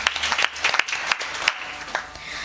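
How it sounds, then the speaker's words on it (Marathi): Audience clapping for a kirtan singer at a devotional kirtan gathering, a dense burst of many hands with sharp peaks that rises and thins over a couple of seconds, moderately loud and fairly close, with no speech over it. "एकदा महाराजांसाठी जोरदार टाळी वाजवा."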